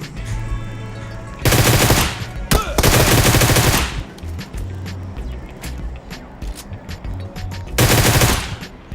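Automatic gunfire rattles in loud, sustained bursts in a battle royale shooter, three long volleys with quieter gaps and isolated shots between them.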